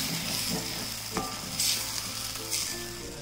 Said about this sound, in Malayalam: തക്കാളി ചേർത്ത ശേഷം നമ്മൾ ഒന്നൊന്നര മിനിറ്റ് ഒന്ന് വഴറ്റിയെടുക്കണേ